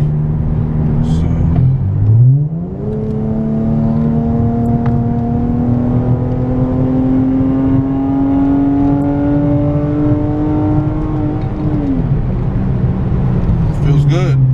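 A V6 Dodge Challenger with a single performance mod accelerates hard, its engine note rising steadily through a long pull after a brief gear change, loud and close from inside the car.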